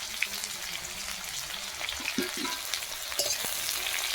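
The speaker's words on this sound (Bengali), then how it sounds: "তারপরে পেঁয়াজ দিয়ে, পেঁয়াজটা ভালো লাল লাল হবে" Onions fry in a kadai with dry chilli, bay leaf and cumin over a wood-fired clay stove, a soft, even sizzle with a few faint stirring knocks.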